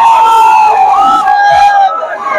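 A dense crowd cheers and shouts at a cinema for the first-day, first-show screening of Gadar 2 in Bhagalpur, a loud, continuous roar of overlapping voices with rising whoops throughout.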